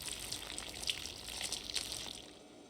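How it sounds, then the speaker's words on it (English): Liquid splashing onto the ground in Project Zomboid, a steady watery pour with soft hissing spatter lasting a couple of seconds, fairly quiet and alone. "Still uncooked, pour on ground."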